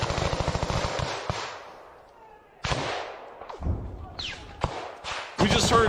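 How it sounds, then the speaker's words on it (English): Close gunfire in a Ukraine war firefight: a rapid automatic burst at the start, then sharp, loud, irregular shots and cracks, with some talk mixed in. "the firefight has gotten incredibly close to them, and it's picking up"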